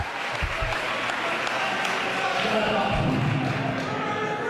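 A wrestling crowd claps and stirs at a CZW show, a dense continuous rumble of clapping and crowd noise with a few heavy thumps, while people talk over it.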